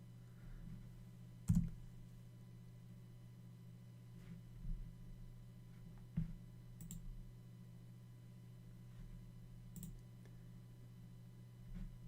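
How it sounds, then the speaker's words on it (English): A computer mouse clicks a handful of times while windows are being arranged, faint, sharp single clicks spaced several seconds apart over a steady low electrical hum, with no one talking. "Clicking some windows around here for myself."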